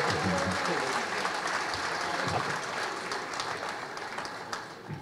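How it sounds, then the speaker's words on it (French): An audience at a town investiture ceremony in Lamentin claps steadily for a band's drummer and singer, a continuous even patter with faint voices underneath. "Applaudissez."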